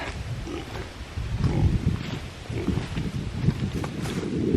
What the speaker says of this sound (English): Here are the bad boys pigs.